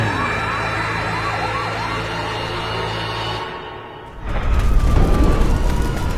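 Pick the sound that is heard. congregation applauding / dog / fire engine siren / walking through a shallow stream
fire engine siren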